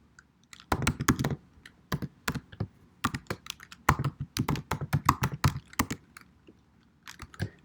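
Close, crisp typing on a computer keyboard while entering a password for a Vimeo account login, quick irregular bursts of key clicks with short pauses between them.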